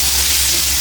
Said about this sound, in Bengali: সিম আর আলুগুলা হালকা হলুদ লবণ দিয়ে হালকা করে